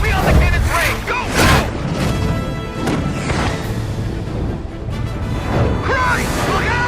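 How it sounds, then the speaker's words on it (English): Heavy booming cannon blasts and crashes repeat over several seconds in an anime battle with a ghost ship, loud and close, with shouting voices mixed in throughout. "They've got cannons!"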